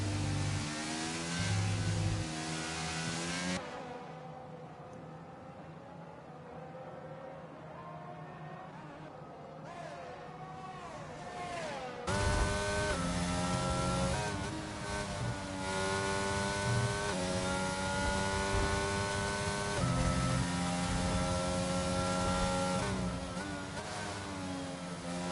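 F1 cars racing at the Belgium round in a video game, with an onboard Aston Martin engine loud and whining, rising and falling through gear shifts alongside other passing cars, while a commentator talks throughout.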